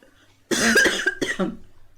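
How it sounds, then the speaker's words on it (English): A couple of loud, raspy coughs in quick succession, close by, followed by silence. "I'm having a coughing fit."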